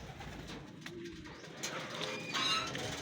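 Racing pigeons at a derby loft coo softly, low throaty calls repeating amid faint background noise with a brief higher chirp, no talking.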